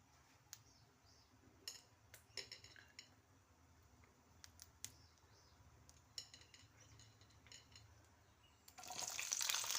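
Mixed vegetables frying in a little oil, heard as soft, faint sizzling with intermittent clinks and scrapes of a utensil against the pan, ending in a louder burst of sizzle near the end.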